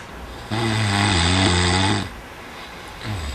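A heavyset wrestler from a ssireum team snores while napping in a shared dorm room, one long loud rasping snore followed by a quieter inhale and the start of another, close by.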